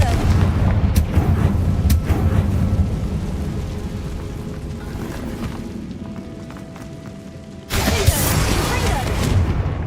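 Confringo blasting spell explosions in the video game Hogwarts Legacy, with rumbling booms and sharp blasts, a quieter stretch, then a sudden loud burst near the end, with voices heard.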